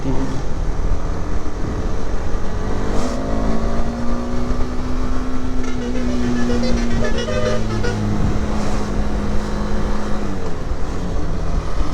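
Car horns honk repeatedly in dense road traffic on a motorcycle ride to Orchid Lake near Shillong, one sustained blare running through the middle over a steady loud rumble of engines, with other short toots scattered around.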